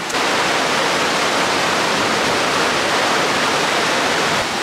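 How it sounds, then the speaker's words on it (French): Steady broadband rushing of river water beside a restaurant, a continuous loud wash with no breaks and no voices. "on a ce petit son d'ambiance de rivière"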